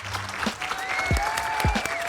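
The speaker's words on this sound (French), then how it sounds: "On applaudit." Short burst of audience applause in a rap-related stream, clapping heard under and around overlapping talk, with a few low thumps mixed in.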